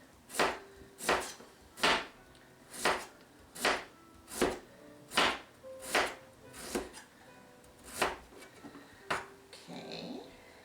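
A knife cuts one small kohlrabi into thin slices by hand. About a dozen crisp, evenly spaced chops land close and clear in a steady rhythm, with a brief scrape near the end.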